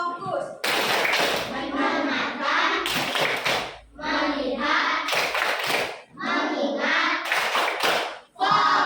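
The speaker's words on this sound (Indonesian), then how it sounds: "Tepuk fokus." A third-grade elementary class performs a rhythmic focus clapping routine, bursts of children's hand claps alternating with their chanted words in a steady, repeating pattern, loud and close.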